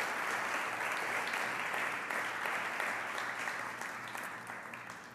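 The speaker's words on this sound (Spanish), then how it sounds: "Vamos pues a darle un gran aplauso a nuestro Dios por su palabra poderosa." A church congregation applauds during a Spanish-language service, a dense, steady wash of clapping from many hands that holds for several seconds and then tapers slightly, heard at a moderate distance.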